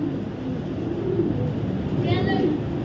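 Racing pigeons coo in a steady low murmur close by, a continuous soft warbling that runs the whole time, with a brief higher chirp midway from another bird.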